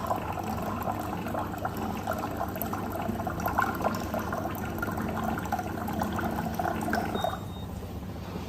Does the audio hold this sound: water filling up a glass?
yes